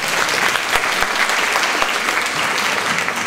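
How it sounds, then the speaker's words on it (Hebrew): Audience applause at an academic panel, a dense, steady wash of clapping that fills the room without any speech. "על זה מגיע למחיאות כפיים ממש."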